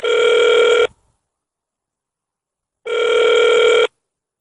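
A telephone line rings while a phone interview connects for a radio programme: two electronic ring tones, each about a second long and separated by two seconds of silence, loud and clear.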